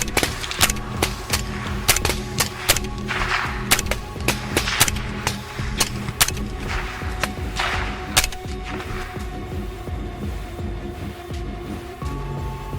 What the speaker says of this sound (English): The gunfire roared, several dropped, while the rest vanished into the darkness.